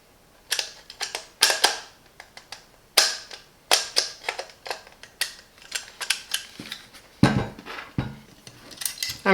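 An Allen key tightens the base screws on a Parkside 20V cordless jigsaw, making close, irregular metallic clicks and scrapes in quick clusters with short pauses between them.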